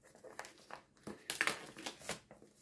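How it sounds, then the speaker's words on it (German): Scissors cutting open the cardboard packaging of MiFo O5 Gen2 Bluetooth earbuds, giving a few quiet crinkling snips and rustles in close, faint bursts with no talk. "ich habe ja hier schon meine Schere, da machen wir die Verpackung hier einfach mal auf"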